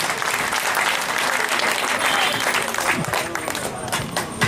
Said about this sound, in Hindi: एक बार हम अपने ऐसे जननायक के लिए ताली तो बजा ही सकते हैं कम से कम